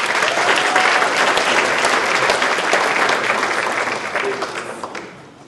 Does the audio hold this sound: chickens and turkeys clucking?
no